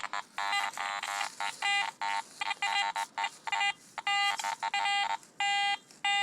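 A metal detector gives choppy electronic tones while hunting for a ring, short bursts and longer steady beeps in an irregular stuttering pattern, close and fairly quiet.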